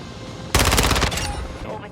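ISO Hemlock submachine gun from Call of Duty MW2 fires a short, very rapid burst of shots, loud and close, then cuts off leaving a fading tail and faint background game sound.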